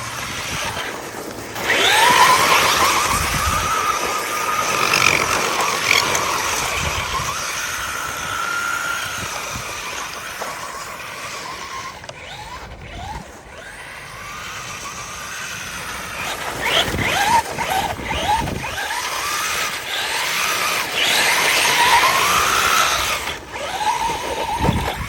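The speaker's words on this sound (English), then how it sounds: "Look at that, look, sitting there spinning on the ice." Vetta Karoo tyres spinning on ice, a sustained engine drone with a rising-and-falling whine as the wheels rev, swelling near the start and again toward the end, loud and close.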